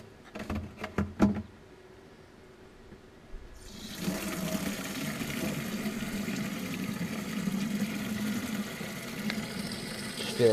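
A few sharp knocks and faint clatter, then water gushes steadily from a tap, a continuous rushing stream that carries on to the end.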